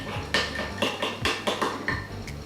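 A spoon stirring cumin into a bowl, a series of close, sharp taps and scrapes against the bowl at an uneven rhythm, alone with no speech.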